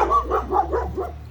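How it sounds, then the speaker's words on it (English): A female dog barks four times in a quick, even series, loud and close outdoors in a garden, with no talking over it. "Excuse the dog, she'll bark at the neighbors."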